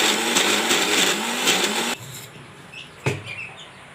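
A kitchen mixer grinder whirs loudly with tomatoes for chana chutney for about two seconds, then cuts off, leaving a quiet room and one brief knock.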